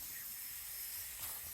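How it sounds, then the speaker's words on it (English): Empire B30 toy steam engine releasing a steady, soft hiss of pressurised steam, fairly quiet and continuous with a brief sharper puff near the end. "puffing out a little bit of steam because there's a lot of pressure coming out of it"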